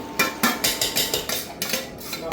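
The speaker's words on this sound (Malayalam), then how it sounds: "കപ്പ ഇളക്കുന്നു" Tapioca (kappa) being stirred in a pot, with about ten close, loud metallic scrapes and knocks of a spoon against the pot in a fairly steady rhythm.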